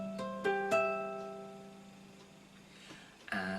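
A short melodic phrase of plucked or struck notes forming a seventh chord in a beginner simple-melody lesson, with three distinct note onsets ringing and decaying, then a fresh bright attack at the end.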